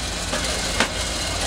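A Chevy small block engine with its catalytic converter removed runs at a steady idle, a dense low rumble with slight knocking texture and one brief higher tick partway through.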